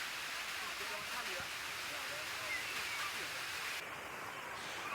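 A waterfall in North Sumatra roars steadily and evenly, fairly loud and unchanging throughout, with faint background murmurs.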